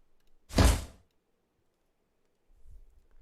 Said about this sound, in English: Armor landing on the ground.